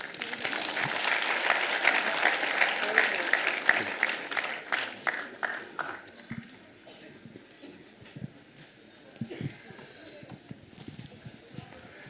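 Audience applause at a Rwandan wedding ceremony for the bishop's daughter, a loud dense burst of clapping that fades after about six seconds into scattered claps and background murmur.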